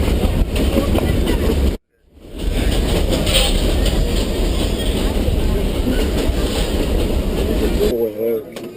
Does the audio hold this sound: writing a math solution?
no